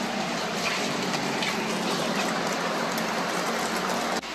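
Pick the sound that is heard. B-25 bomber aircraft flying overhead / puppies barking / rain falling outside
rain falling outside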